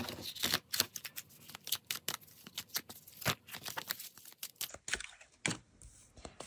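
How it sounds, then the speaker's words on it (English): Rapid papery flicks and taps of oracle cards being riffle and overhand shuffled, close and crisp, in quick irregular bursts with brief pauses. "they riffle shuffle fine, and they overhand shuffle fine"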